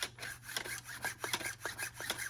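Faint, rhythmic rubbing and rasping of 3D-printed plastic parts sliding against each other in a prototype pump-action toy blaster, a quiet scraping texture over a low steady hum.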